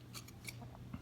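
Scissors snip a strip about an inch wide from material for a tealight fire starter, several short crisp cuts close by and quiet, with no talk.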